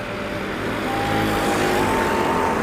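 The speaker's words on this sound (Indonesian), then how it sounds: "Nah, sudah masuk ini armada bus dari PT Anas Nasional Sejahtera atau ANS." An ANS (PT Anas Nasional Sejahtera) Mercedes-Benz-engined intercity bus arriving at a ticket office on the Padang bypass, a steady loud engine drone with a slowly rising whine throughout.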